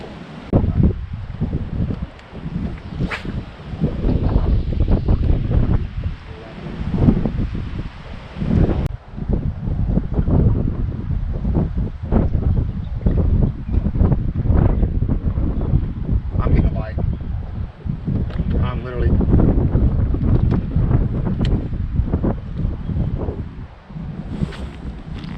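Steady wind roars and buffets the microphone on a bass fishing boat out on open water, a continuous gusty rush that persists under occasional talk throughout.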